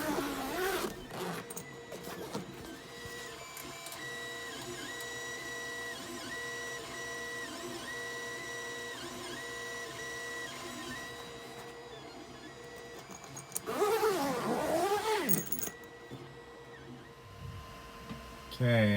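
A Creality Ender 3 3D printer runs inside an enclosure with steady stepper-motor whine and repeating tonal movement patterns, a busier burst of motor sweeps near the end; moderately quiet and continuous, no talking.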